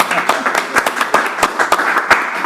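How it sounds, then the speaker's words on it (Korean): A small dinner gathering claps for a company chairman's birthday, giving loud, close, uneven claps from a handful of people, with a voice briefly heard. "한 번 더 박수를 드리겠습니다."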